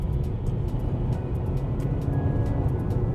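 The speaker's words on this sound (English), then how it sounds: "you get a strange amount of intrusion from that engine and gearbox into the cabin" A Mitsubishi ASX with a 2-litre engine and CVT gearbox accelerates, heard from inside the cabin as a steady, loud low drone and broadband road roar that holds constant throughout.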